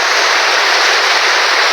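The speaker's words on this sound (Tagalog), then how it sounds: "Lakas ng ulan, no?" Heavy rain pours as a dense, loud, steady hiss with no breaks, filling the whole moment.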